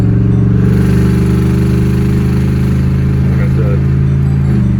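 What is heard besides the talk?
cammed 2006 Chevrolet Monte Carlo SS engine driving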